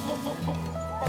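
Chickens clucking nearby in a snowy farmyard greenhouse, with a steady low murmur of clucks and a brief higher call, no talking.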